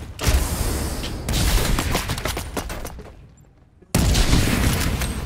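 Rapid bursts of gunfire in the battle game Farlight 84 crackle loudly up close, a brief lull near the end, then another sharp burst of shots.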